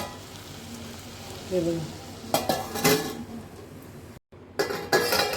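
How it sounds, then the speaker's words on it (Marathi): Pots and utensils clink in a kitchen while a dried shrimp and onion masala fries, ending with a metal lid set down on the cooking pan in a few sharp clanks over faint sizzling. "त्याच्यावर परत आपण झाकण ठेवूया"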